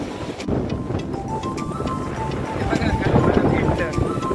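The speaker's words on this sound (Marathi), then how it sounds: "बघा कसं खवळलेलं समुद्र सुंदर आणि मस्त" Rough, churning sea surf breaking at Bhogwe beach in the rain, a broad continuous wash of waves and wind noise that swells louder toward the end, with people talking over it.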